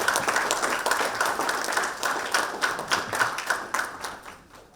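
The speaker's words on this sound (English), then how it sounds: "Keep the applause going, guys." A seminar audience claps steadily after an investing talk, with dense, even applause at moderate distance that holds for several seconds and then gradually thins and fades.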